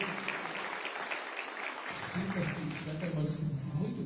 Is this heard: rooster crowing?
no